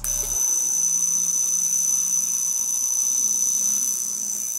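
A Vulcain mechanical alarm watch with a transparent caseback and V10 movement buzzes as its small hammer strikes, giving a steady, continuous, close-up metallic drone that lasts the whole moment without pause.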